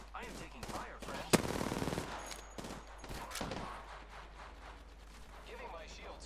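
Video game gunfire in a firefight with a Revenant on the field: bursts of rapid automatic shots with one sharp loud crack, moderately loud, fading toward quieter background later.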